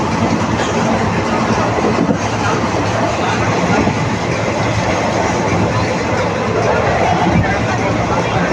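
A superfast express train runs between Dindigul and Madurai, heard from on board as a loud, continuous rumble with rhythmic wheel clatter and a murmur of passenger chatter underneath.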